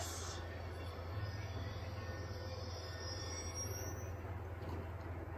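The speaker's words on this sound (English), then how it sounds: "Ain't getting anything else with that train in the way." A train rolls past in the Call of Duty Black Ops 2 video game with a continuous low rumble of wheels on rails and a thin, high squeal running over it, steady from start to finish.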